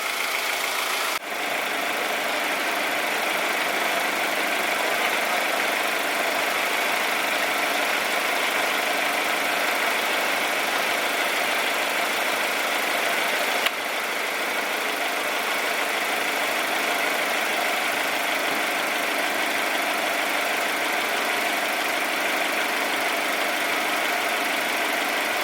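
Honda CR-V engine idling, a steady, smooth, quiet hum with a faint even vibration that holds constant for the whole stretch, interrupted only by a couple of tiny clicks.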